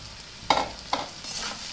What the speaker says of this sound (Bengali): এবার আমি সেদ্ধ করে রাখা ওলটা একসঙ্গে ভেজে নিব।